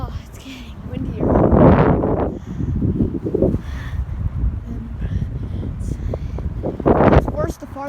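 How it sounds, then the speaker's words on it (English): Strong gusts of a windstorm buffet the microphone close up, rising in loud roaring bursts, while a person talks over the noise. "Oh, it's getting windier."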